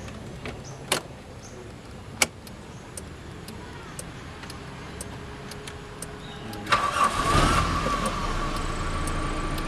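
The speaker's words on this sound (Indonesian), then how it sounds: "kita coba untuk starter mobil ini" After a few clicks and taps, a 1992 Toyota Great Corolla engine cranks and catches, then settles into a smooth, steady idle close by.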